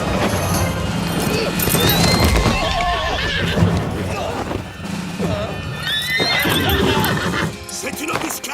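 Cartoon horses neigh and whinny repeatedly over clattering hooves and crashes during an ambush in a Zorro cartoon, with voices shouting in a busy, chaotic scene.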